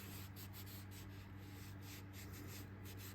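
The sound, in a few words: horsehair brush buffing leather finish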